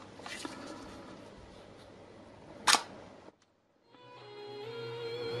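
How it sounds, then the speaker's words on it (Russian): A Zorki-3 film camera's shutter is released with one sharp, close mechanical snap amid quiet handling noise, followed by a brief silence. "еще раз послушаем звук затвора"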